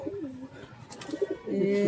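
Andhra pigeons coo close by in a short burst of low, rolling throaty calls, with a louder coo rising at the end.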